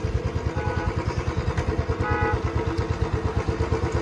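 Motorcycle engine running while riding through a busy temple town near Radha Rani temple, with a steady, loud, rhythmic pulsing throb that stays close and continuous throughout.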